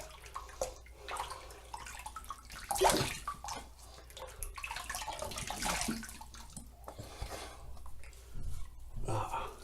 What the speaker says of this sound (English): I'm going to go ahead and wet my face.